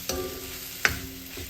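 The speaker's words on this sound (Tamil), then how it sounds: "இந்த வெங்காயம் கொஞ்சம் வதங்கணும்" Onions sauté in a pan with a continuous close sizzle, broken by two or three quick scraping strokes of a spatula.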